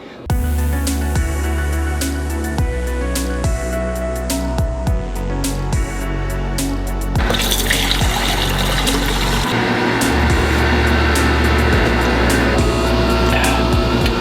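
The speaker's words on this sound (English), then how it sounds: "we've got a water filtration system" A boat's water filtration system runs, a steady mechanical pump hum throughout with rushing water, growing louder and hissier about halfway through as the flow increases.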